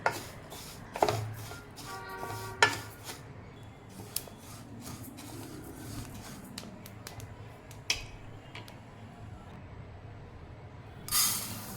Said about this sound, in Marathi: आता बडीशोप आपण भाजून घेणार आहोत